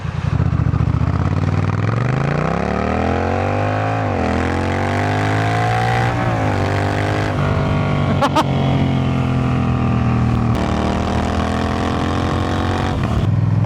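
A Honda Rebel 1100 DCT motorcycle engine accelerates steadily and loudly, its pitch climbing through several automatic gear changes with brief dips between shifts, heard close and continuous throughout.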